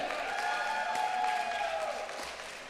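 Crowd at a pickleball night event between team venues applauding and cheering steadily, a broad wash of clapping and voices with a high sustained whoop, easing slightly toward the end.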